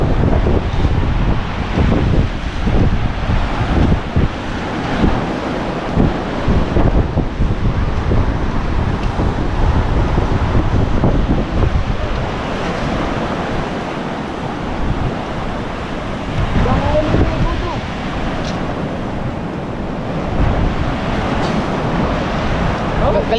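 Strong wind buffets the microphone with a continuous rushing roar and heavy gusts, sounding like surf crashing nearby.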